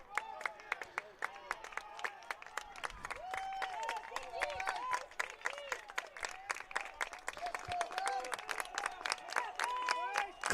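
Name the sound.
crowd clapping at a college baseball game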